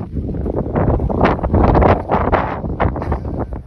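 Strong wind gusts roar and buffet the microphone in heavy, uneven blasts, loud and close, with no voices heard.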